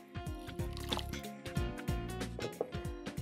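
Water pours into a bowl of boiled buckwheat that has been put through a meat grinder, the start of a buckwheat casserole. A close, steady gurgling trickle runs with soft splashy glugs for a few seconds.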